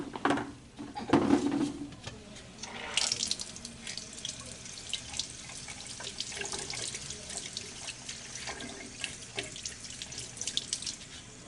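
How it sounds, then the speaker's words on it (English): Water running from a tap as a plastic lab tray is rinsed in a sink, a steady splashing flow with a few knocks and clatters from the tray. "I'm going to have to rinse this one really quick"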